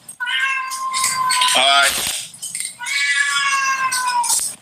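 A house cat meows loudly and insistently up close, several long drawn-out yowls in succession, with a voice briefly speaking between them.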